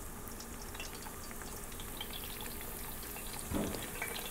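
Fry bread dough sizzles in hot grease with a steady, even crackle, and a short louder splash or bubble burst comes near the end.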